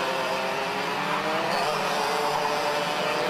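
Junior X30 karts racing at Whilton Mill, a steady buzzing whine of several engines running close together, loud and continuous without pause.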